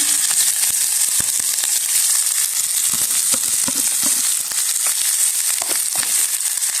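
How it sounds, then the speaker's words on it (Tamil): Onion and green chilli sizzle steadily in hot oil, a dense crackling hiss with scattered sharper pops throughout, close up and with no talking. "இப்போ அந்த எண்ணெய் கொதிச்சுட்டு நாங்கள் வட்டி வச்ச வெங்காயத்தையும் பச்சை மிளகாயும் போடலாம்"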